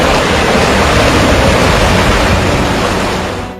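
Floodwater rushing beneath a city flyover after heavy flooding in south and central China, a loud, steady, broadband roar that holds continuously without break.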